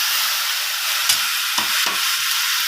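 Fish head slid into a hot pan of sautéed onion, garlic and tomato sets off a loud, steady sizzle, with a few soft stirring knocks and clatters over it.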